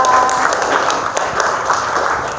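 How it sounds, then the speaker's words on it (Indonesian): Classroom applause for group 2: a crowd of students claps in a steady, dense patter of hand claps at moderate loudness, tapering slightly toward the end. "Tepuk tangan buat kelompok 2."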